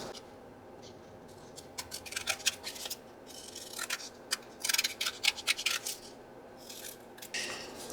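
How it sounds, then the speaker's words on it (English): Scissors trim paper for a handmade envelope and journal set, giving crisp close snipping strokes in irregular bursts with soft rustling between cuts, and no talking. "So that means I'm going to be trimming out my paper."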